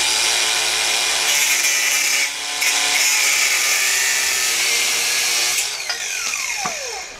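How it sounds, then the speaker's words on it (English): A power tool cuts through the threaded stud ends of U-bolts while installing a 3-inch lift on a 1978 Jeep J10, giving a loud, steady whine for about five seconds before it spins down, with rising and falling pitch sweeps near the end. "I'm just going to cut a couple inches off the top of all of these studs"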